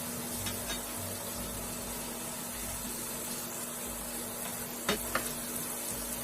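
Beef browning in a pan for Cuban vaca frita sizzles steadily and close, a continuous hiss with a couple of brief scraping stirs near the end, and no voices.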